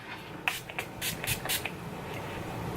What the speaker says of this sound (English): I would finish it off with my setting spray on my eyes